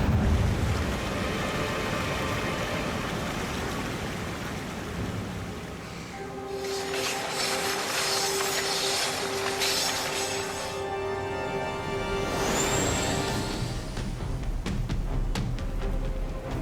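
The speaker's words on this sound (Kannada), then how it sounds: "ಎದುರಲ್ಲಿ ಒಂದು ವಾಟರ್ ಫಾಲ್ ಇದೆ" A waterfall beside a railway line in a cartoon roars with rushing water, a loud, continuous wash overlaid mid-way by sustained tonal layers and a rising whistle near the end.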